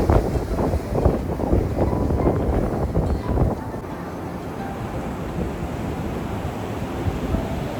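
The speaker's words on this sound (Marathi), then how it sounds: "मस्त हवा सुटलाय, ओ हवा सुटली." Strong wind blows hard across a Goa beach, a loud, steady roar buffeting the microphone throughout. It rumbles heavily at first, then settles into a softer, continuous rush, and nobody speaks.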